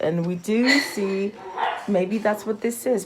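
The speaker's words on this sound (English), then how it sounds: "you might hear the puppy in the background playing" A puppy barks and yips in the background while someone keeps talking over it. The short, high barks and whimpers come through beneath the steady flow of speech.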